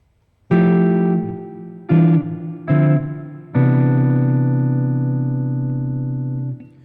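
An electric guitar strums four rich seventh and ninth chords, three short and the last left ringing long, played alone and close.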